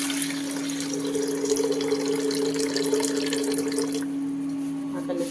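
Water runs steadily into a pot of rice being prepared for a shared meal on a religious day, a continuous close pouring and trickling sound that stops near the end.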